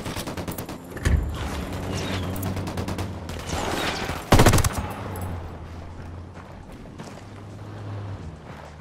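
Gunfire in Ghost Recon Wildlands on PS5 cracks out in sharp reports, with a loud shot early and a heavier blast midway, over rapid distant popping and a low engine-like drone.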